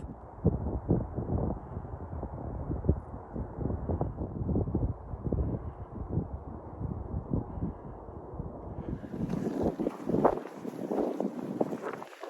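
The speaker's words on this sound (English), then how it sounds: "It's so windy out here." Strong wind roars and buffets the microphone continuously on the Pacific Crest Trail near Tehachapi, gusting harder toward the end with a hissing rush on top.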